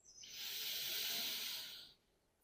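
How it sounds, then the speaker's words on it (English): A long, steady inhalation drawn through the nose during a yoga routine for back pain, a soft airy hiss swelling and holding for about two seconds before fading, close and alone with no talk. "Inhale once more."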